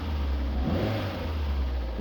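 A car engine revs up steadily and loudly, a low throaty roar holding for a couple of seconds with no one speaking.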